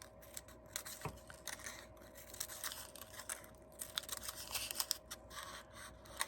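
Scissors snip quickly and repeatedly through paper to cut a fringe for a spring craft flower, with close, crisp, irregular clicks and rustles at a quiet level and no talking.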